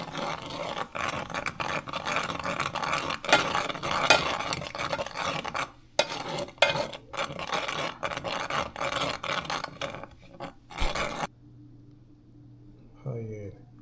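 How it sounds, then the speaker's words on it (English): A spoon stirs a baked salmon dish after a sprinkle of parsley, giving soft scraping and clinking strokes in a steady rhythm close by, with a voice talking over it before a brief quiet stretch near the end. "A little bit of parsley just for the look. We'll stir that around."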